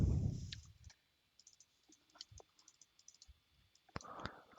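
Several soft, quiet mouse clicks on a computer as a folder is opened, scattered over a near-silent background with a brief rustle at the start and a louder burst of handling noise near the end.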